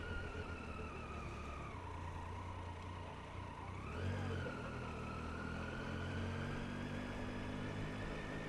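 A taxi drives past on a city street, its engine drone rising and shifting in pitch as it goes by, steady and moderately distant amid constant traffic hum, with no one speaking.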